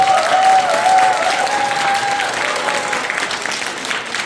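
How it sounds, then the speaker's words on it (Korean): Applause from a Korean university student audience at a Gyeongju MT retreat, welcoming a special MC on stage. Dense, sustained clapping from a full room, steady for several seconds with a faint tonal whistle near the start. "박수로 받아주십니다"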